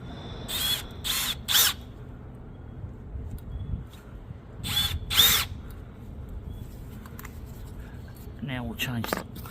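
A power drill whirs in short, loud bursts into a KTM oil filter cover bolt, stopping and starting several times, with quieter background noise between the runs.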